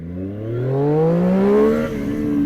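A Triumph Street Triple 765 motorcycle accelerates in rider mode on an empty road with gravel, its engine note climbing smoothly in pitch through one strong rising pull before easing off, loud and close with no talking.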